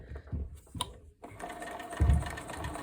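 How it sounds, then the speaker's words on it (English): A sewing machine runs in short bursts while top stitching a row along the edge of a bucket hat, its close, steady mechanical whir stopping briefly and then starting up again. "I'm going to start with a top stitch on the edge first"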